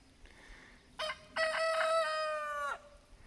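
A rooster near a dirt-bathing flock and ash pile lets out one long, high crow after a short lead-in note, moderately distant and clear over quiet outdoor background.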